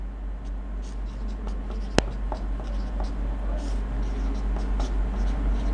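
A pen scratches out handwritten notes in short, repeated strokes over a steady low hum, with one sharp tap partway through; the writing stays faint and close.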